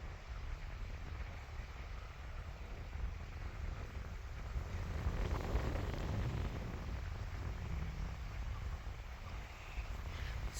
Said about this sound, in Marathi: किती वारा, किती शांत आणि वारा किती गार यायला लागले.